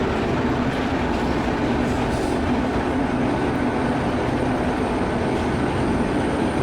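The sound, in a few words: Sabari Express train running, from video game Train Simulator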